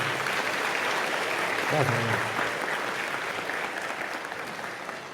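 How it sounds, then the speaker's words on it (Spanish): Audience applause for a speaker at a religious debate, steady clapping that slowly fades, with a brief spoken thanks over it midway. "Aplauso para el hermano Eduardo."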